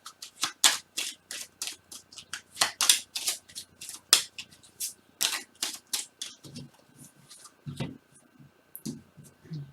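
Oracle cards are handled at close range in a string of crisp, rapid flicks and slaps, loud and uneven, tapering into softer rustles toward the end.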